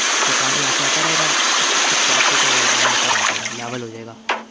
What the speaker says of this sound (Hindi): तो पानी यहाँ से आता रहेगा